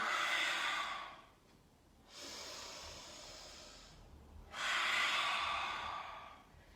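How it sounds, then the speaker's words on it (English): Forceful breathy exhales during a yoga stretch for the chest, shoulders and upper back, tongue out: two strong hissing out-breaths separated by a quieter breath, close and clear with no talking. "As you exhale, stick out your tongue."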